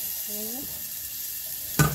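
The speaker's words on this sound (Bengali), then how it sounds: "দিয়ে দেবো তার মধ্যে আলুগুলো, আলুগুলো একটু লাল লাল করে নেব" Potatoes frying in oil with cumin in a home kitchen pan, a steady close sizzle throughout, a brief tonal squeak early on and a louder burst of clatter near the end.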